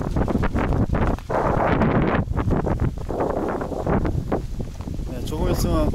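Strong wind blows at a mountain campsite on Chuwolsan, roaring and buffeting the microphone in loud continuous gusts throughout, with a voice briefly audible under it.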